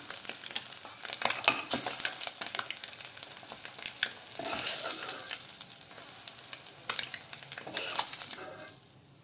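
Food fries in a pan for drumstick egg curry, a continuous close sizzle with uneven swells, punctuated by many sharp clinks and scrapes of a spoon against the pan; no one speaks.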